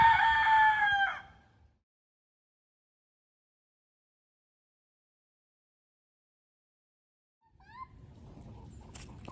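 A rooster crows loudly and close by at the start, then silence follows, and faint clucking and farmyard sounds return near the end.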